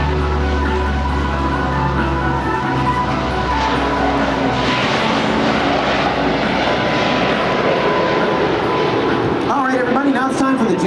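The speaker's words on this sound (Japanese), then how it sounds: "海上自衛隊の P3 オライオンの離陸です。" A Japan Maritime Self-Defense Force P-3 Orion takes off at the 1995 Atsugi air show, its engines a loud, sustained roar that swells and rolls throughout, with voices talking over it.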